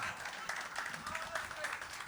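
Quiet clapping from a small audience, brief and fairly even, heard at a distance with a soft crowd murmur.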